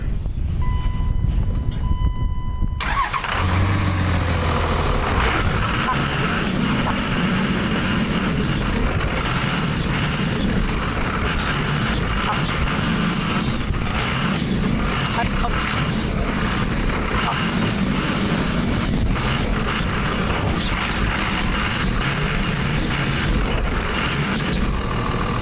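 Off-road wrecker truck engine running on its first test drive, a loud, steady rumble that starts after a brief quiet opening and continues throughout, with rattling and knocks over the drone.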